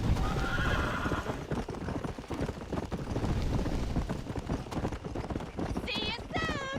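Horse hooves clip-clop at a gallop in the Red Dead Redemption video game, with whinnies near the end, under steady in-game music and a talking voice throughout.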